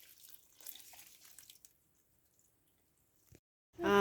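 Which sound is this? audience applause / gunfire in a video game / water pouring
water pouring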